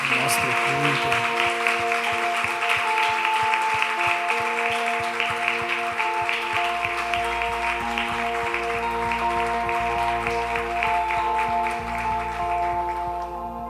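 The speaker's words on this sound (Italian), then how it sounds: "Facciamo un applauso al Signore per terminare il nostro culto" A church congregation applauds at the end of a worship service, steady clapping laid over sustained tones from instruments or a keyboard, continuing for over ten seconds before easing slightly.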